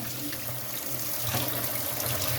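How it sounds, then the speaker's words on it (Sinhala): Tap water runs steadily over the mud filter cartridge of an Aqualife RO water purifier while it is rinsed clean. The gushing is continuous, close and fairly loud, with no pauses or voices. "මේ විදිහට කරකව මේකට වතුර අල්ලන්න."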